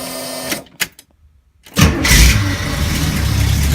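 A V8 engine in a Chevrolet Vega cranks briefly, falls silent, then catches and roars to life, settling into a loud, steady rumbling idle close by.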